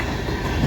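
A CN freight train rolls past near London, Ontario on the Dundas Subdivision, its steady loud rumble and wheel clatter filling the air continuously with no voices.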